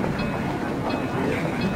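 Freight, commuter or Amtrak train rolls past at a station platform, a steady loud rumble with faint rhythmic clickety-clack of wheels over rail joints.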